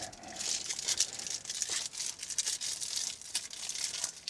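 Painter's tape rips off the roll and is pressed over crinkly bubble wrap around a VHS shipping box, a run of close rasping tears and plastic crackles with no talking.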